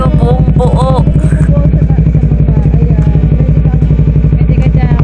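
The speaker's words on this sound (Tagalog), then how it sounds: "Tingnan mo naman Kamarites, yung tunog niya buong buo, grabe." A motorcycle engine, likely a Kawasaki Ninja, idles close by with a loud, full, rapid thumping pulse throughout, while a voice speaks over it.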